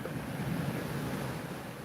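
Water waves at the shore in Phuket, a continuous broad wash of surf mixed with wind buffeting the microphone, steady and fairly loud with no voices.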